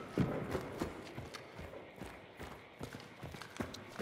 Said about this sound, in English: Someone scared the horse, I think